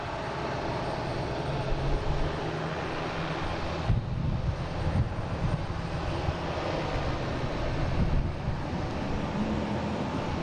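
A JetBlue jet bound for Milan takes off from Boston Logan with a continuous, wind-buffeted broadband engine roar that stays fairly even throughout.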